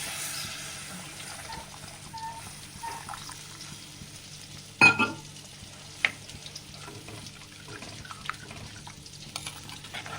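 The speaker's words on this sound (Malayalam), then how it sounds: "ഇനിയിപ്പോൾ നമുക്ക് കറിക്ക് ആവശ്യമുള്ള വെള്ളം ഒഴിച്ചു." Water is poured into masala fried in oil for a Kerala-style red chili fish curry, setting off a loud burst of sizzling midway over a steady low frying hiss, followed by a few scattered pops.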